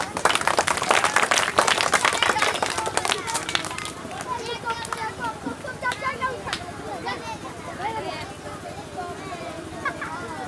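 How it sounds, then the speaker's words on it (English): Audience clapping at a school Independence Day awards event, loud dense applause at first that fades after a few seconds, leaving chatter and voices talking over scattered claps. "Make a huge clapping for the sir."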